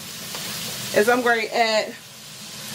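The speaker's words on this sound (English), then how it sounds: "you still hear it sizzling a little bit" Drained ground hamburger meat with peppers and onions sizzles gently in a pan, a soft, steady frying hiss that sits under a person talking.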